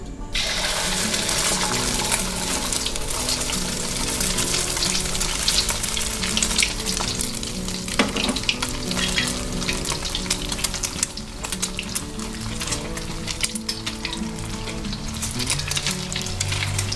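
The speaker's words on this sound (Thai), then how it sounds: "พอกระทะเริ่มร้อนนะคะ เราก็ดูได้จากเริ่มมีควันควันขึ้นนะคะ เราก็เทไข่ลงไปได้เลยค่ะ" Eggs for a Thai shrimp omelette sizzle and crackle loudly in smoking-hot oil, a dense continuous frying hiss with occasional pops and stirring, no voices.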